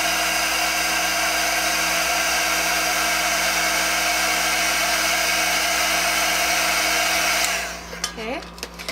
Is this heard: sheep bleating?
no